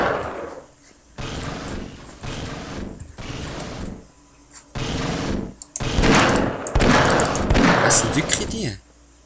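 Enemy gunfire in the shooter video game Half-Life, with bursts of rapid firing that stop and start and then swell into louder sustained volleys, while a player speaks Swiss German over them.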